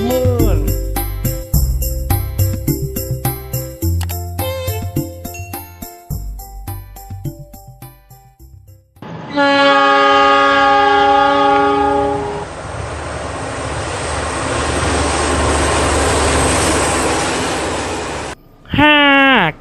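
A train rolls along with clattering, rhythmic wheel and rail noise, then sounds a long, loud multi-tone horn that holds for several seconds before a brief final burst.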